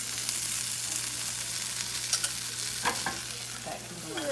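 Breakfast burrito filling sizzles steadily in a frying pan with the heat just turned off, broken by a few sharp scrapes and taps as it is stirred and flipped, close and alone.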